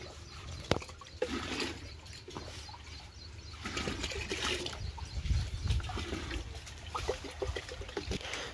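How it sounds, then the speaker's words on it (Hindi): Water filling a bucket outdoors on a farm while spray is being mixed, an uneven close splashing and gurgling with scattered knocks, and faint bird calls in the background. "जो भाई दूसरी बाल्टी में पानी भर रहे हैं"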